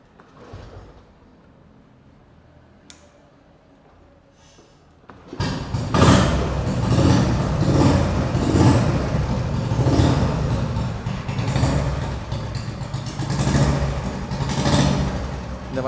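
A vintage Royal Enfield Bullet motorcycle engine, an older registered bike, fires up after a quiet start and settles into a loud, steady thumping run close by, with rhythmic swells of revving.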